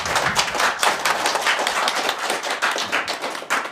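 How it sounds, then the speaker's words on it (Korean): Steady, dense audience applause at a Korean political party event welcoming a newly joined member, a close, continuous burst of many hands clapping with no voices. "다 같이 박수로 환영해 주시기 바랍니다"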